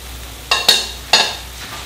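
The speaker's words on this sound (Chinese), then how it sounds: "炸到这个鱼表面微微发黄的时候就可以了" Grass carp pieces deep-frying in hot oil in a wok, the frying fish giving three sharp bursts of loud crackling sizzle over a low steady hiss, close up.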